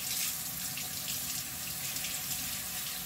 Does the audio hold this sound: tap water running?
yes